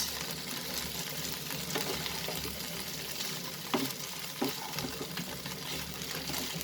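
Chicken and broccoli sauté in a pan for a stir fry, a continuous close sizzle with occasional sharp clinks and scrapes of stirring.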